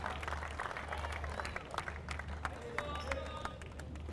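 Spectators at a professional squash final applaud after a long rally, a burst of clapping and crowd noise in an indoor arena with commentary talk running over it.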